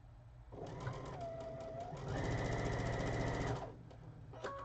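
A sewing machine runs steadily at close range, slowing to stitch through a heavy quilting seam, its whirring motor humming continuously with a change in pitch partway through.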